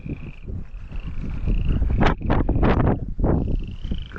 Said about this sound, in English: frogs are croaking